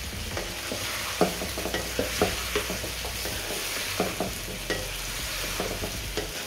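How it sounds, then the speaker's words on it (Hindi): Ginger-garlic paste being stirred into a pot for Karachi-style biryani, with repeated scraping knocks of a spoon against the pot over a steady low sizzle, close and fairly quiet, no talking. "इस पॉइंट पे आके जब तो इसके अंदर आपने ये अदरक और लहसुन का पेस्ट शामिल कर देना। इसको हम अब अच्छे तरीके से मिक्स करेंगे।"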